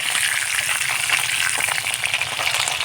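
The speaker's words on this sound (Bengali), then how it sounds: "আমি ভালো করে ভেজে নিয়েছি আর উঠিয়ে নিচ্ছি" Fish sizzles and crackles steadily in hot oil in a kadai, a dense, close frying hiss that runs unbroken throughout with no talking.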